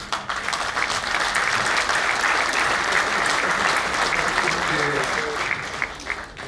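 At an international industry and services forum in Souss-Massa, an audience gives Marwan Abdelhadi dense, sustained applause, loud and steady, with voices mixed into the clapping before it tapers slightly at the end.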